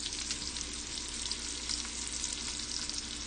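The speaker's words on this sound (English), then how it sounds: "I'm probably going to sear the sides in a bit" Meat searing in a cast iron skillet, a continuous even hiss and crackle of sizzling fat, steady and close with no voices.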